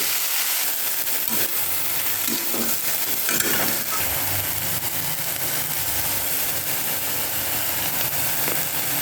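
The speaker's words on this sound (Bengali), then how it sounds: "রসুন পেঁয়াজগুলো ভাজা ভাজা করে নিয়ে শাকগুলো দিয়ে দেবো।" Garlic, onion and red amaranth greens fry loudly in a pan, a dense continuous sizzle and hiss with occasional scraping stirs throughout.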